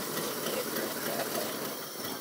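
A 1967 Ford F100 pickup, long parked, idles on full choke with a rough, hissy, steady rumble that has a faint rattly texture, fairly quiet and with no voices.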